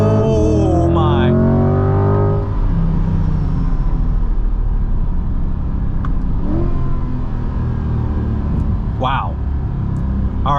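A 2020 Corvette C8 Z51 drives hard while chasing a Porsche 911 Turbo, its engine droning loud and steady throughout with rising revs, a few brief clicks and shift-like chirps near the end.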